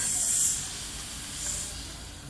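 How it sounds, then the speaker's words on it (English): Steam hisses steadily from an antique combination steam boiler engine, 22 inches wide and 20 inches tall and fed by a half-inch line, as a bright, constant rush that swells slightly at the start and again midway. "And I'll turn on the steam here."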